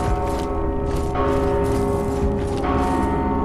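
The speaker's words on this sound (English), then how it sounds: "It looks like the bell is ringing." A bell tolls steadily in Mortal Shell's base camp, its ringing tones layered and sustained, with repeated strikes swelling across the clip at a moderate, even loudness, no voices present.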